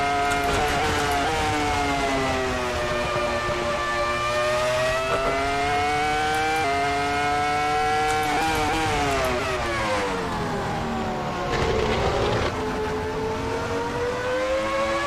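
A Formula One era racing car engine in the Assetto Corsa video game at Silverstone screams at high pitch, rising and falling through repeated gear shifts as it accelerates and brakes, loud and continuous.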